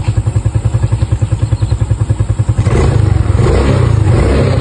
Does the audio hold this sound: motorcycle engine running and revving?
yes